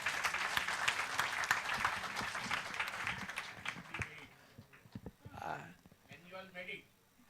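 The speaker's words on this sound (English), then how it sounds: "A big round of applause to Dr." Applause from a conference audience for a speaker at a food science and technology event, a dense crowd clapping for about four seconds before fading into scattered claps and speech.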